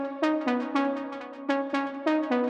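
Progressive house synth plucking a repeating pattern of bright, harmonically rich notes with a short delay return trailing each hit, giving a slightly wet, rhythmic sound that plays alone and steady.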